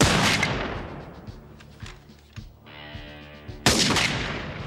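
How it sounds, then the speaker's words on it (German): Rifle gunshots: a loud, sharp crack at the very start rolls away into a long echoing decay, then a second equally loud shot bursts out near the end. "Das war der erste Schuss."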